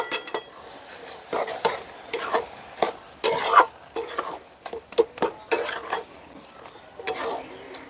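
Carrot halwa with cardamom and sugar is stirred in a pan with a spoon. Repeated rhythmic scraping strokes against the metal are heard close by over a soft sizzle.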